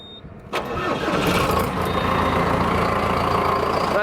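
A John Deere 7210 or 6230 farm tractor on a robotic dairy farm cranks briefly, then its diesel engine catches and settles into a steady, loud idle close by.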